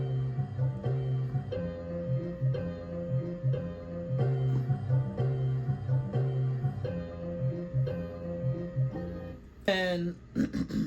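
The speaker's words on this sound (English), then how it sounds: "Chopped it up, put it in simpler, and then this is what the sample sounds like now" A chopped music sample plays back from the Simpler sampler, a steady looping groove with repeating tonal chords and rhythmic hits, ending in a brief rising glitchy sweep.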